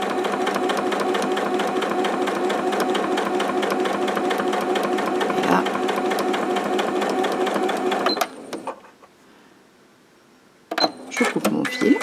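A Janome Skyline S5 sewing machine stitches fabric with a fast, steady mechanical chatter for about eight seconds, then stops; a brief quiet follows before clicks and a thread-cutting whir close by.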